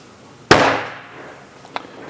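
A gun fires reloaded ammunition at an outdoor shooting range, one loud, close, sharp crack with a long decaying echo, then a fainter distant shot about a second later.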